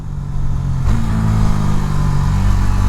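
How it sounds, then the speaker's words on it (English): A 2019 Husqvarna Svartpilen 401 single-cylinder motorcycle engine braking through a downshift, a loud, steady engine drone that jumps abruptly in pitch as a lower gear engages, then holds at the higher revs. "Because we're gonna engine brake, fifth gear, fourth gear,"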